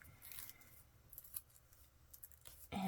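Scissors snipping through fabric on a vintage hankie pocket, faint close cuts scattered across a quiet background with a louder rustle at the end.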